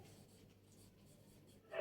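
Pen or chalk strokes while working through a quadratic equation in a math lesson, soft and close with faint scratching, ending in a brief louder scrape.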